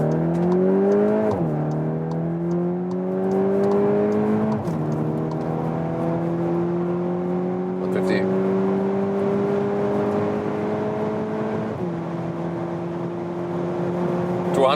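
A VW T-Roc R in race mode accelerating hard on a German Autobahn from 50 km/h: the engine pulls and rises steadily in pitch through several gear changes, with brief drops between, heard from inside the cabin.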